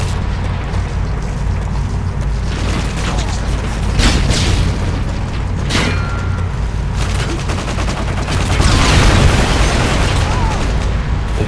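Rocket explosion in a first-person shooter deathmatch, buried in a dense, loud wall of game gunfire, booms and bursts that continue throughout the clip.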